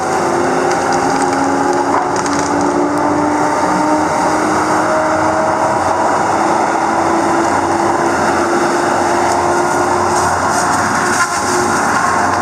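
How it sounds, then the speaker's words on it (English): A Tigercat LX830D tree mower roars continuously while its spinning saw disc whines, its tone climbing slowly as it comes back up to speed. "Hear that disc coming back up."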